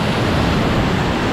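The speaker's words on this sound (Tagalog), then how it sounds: "Lakas ng alon, no?" Strong sea waves surging and crashing continuously at close range, a dense, loud roar of surf with wind buffeting the microphone throughout.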